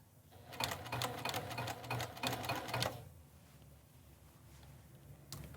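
A sewing machine top-stitches around a neckline edge on Japanese fabric, a fast close rattling burst of stitching for a couple of seconds, then stopping to a quiet pause with a brief tap at the end.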